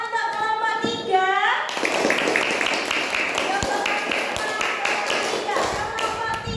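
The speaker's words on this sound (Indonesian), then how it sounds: "Tepuk tangan untuk kelompok 3." Children clapping together for a classroom group, a dense burst of hand claps and taps that starts after a second and a half and carries on steadily at close range, with kids' voices mixed in.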